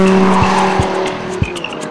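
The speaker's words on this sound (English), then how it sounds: "Schnitzer was represented by this Z4 S-Drive 35i" A Schnitzer-tuned BMW Z4 sDrive35i drives with a steady, loud engine drone, with a few sharp bursts of tire and road noise along the way.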